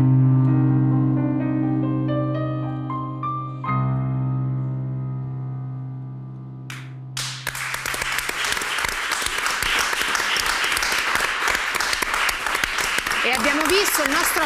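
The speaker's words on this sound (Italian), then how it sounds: "il nostro applauso va a Francesca Marsi e Paolo Gatti" Theatre audience breaks into loud, dense applause after a staged performance of Dickens's A Christmas Carol, following a stretch of sustained musical tones; the clapping continues steadily to the end.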